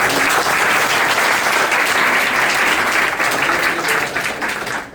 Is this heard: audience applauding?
yes